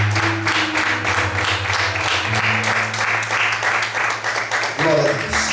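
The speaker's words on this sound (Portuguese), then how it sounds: "Você pode aplaudir ao Senhor bem forte" A church congregation claps loudly and steadily, a dense mass of applause over sustained music tones, with voices mixed in throughout.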